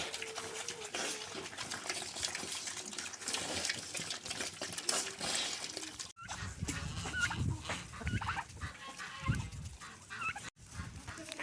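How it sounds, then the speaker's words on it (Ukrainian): Chickens cluck and peck as they eat breakfast outdoors on a snowy village morning, with repeated soft clucks and scratchy feeding sounds at moderate distance and no talk. "Курочки їдять, снідають."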